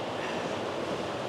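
A small waterfall flows out from under a house in Portugal, giving a soft, continuous rushing wash of water that stays steady and fairly faint, with no one speaking.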